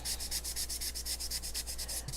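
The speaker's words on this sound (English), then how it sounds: "I'm just lightly sanding these" A small hand sander lightly smoothing snowflake decorations, a quick rhythmic back-and-forth rasping that repeats about a dozen times, close and fairly quiet.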